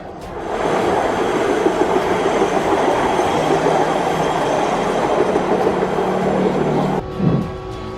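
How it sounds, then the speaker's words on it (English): A high-rail maintenance vehicle running on steel railway wheels along the tracks, a steady loud rumbling roll that cuts off sharply near the end, followed by a brief clunk. "these are actually high rail maintenance vehicles designed to switch between normal road tires and steel railway wheels"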